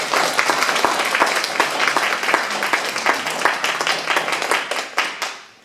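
A church congregation claps together in quick, fairly rhythmic, close-sounding bursts that hold steady and then trail off into a few final claps.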